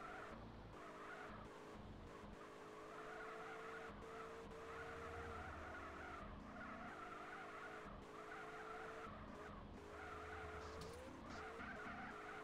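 A four-wheel-drive car drifts in circles in GTA: San Andreas, its tyres screeching in a continuous, wavering squeal over a steady engine drone, with occasional shifts in pitch and no talking.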